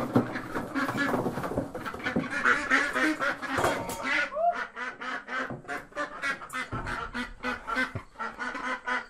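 Runner ducks quack in their coop, loud and close, a busy flurry of overlapping calls that settles into a steady run of rhythmic quacks.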